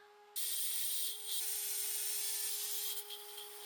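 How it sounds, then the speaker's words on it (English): A bandsaw cuts a half-lap joint into a wooden post, a steady bright whine of blade through wood starting abruptly and running continuously with slight dips as the feed changes, close and alone. "I then mark the side of the half-lap joint and cut it out on the bandsaw."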